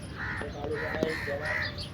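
Crows cawing near a bird feeder at a village bird house, several harsh repeated caws close by over steady outdoor background noise.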